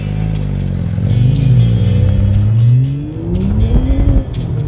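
A car fitted with lightweight carbon fiber wheels accelerates hard, its engine note climbing steadily through rising revs with a brief shift, loud and close with road and tire noise underneath.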